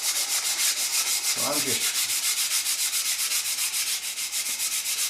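Sandpaper is rubbed by hand over a wooden raised panel in quick, even back-and-forth strokes, close and steady throughout, with a short spoken phrase partway through.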